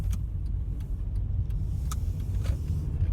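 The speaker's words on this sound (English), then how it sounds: "I'm just adjusting the clutch to pull forward slowly." A manual car creeps forward slowly on a hill using gas and clutch control, its engine a low steady idle-level rumble heard from inside the cabin, with faint clicks and ticks over it.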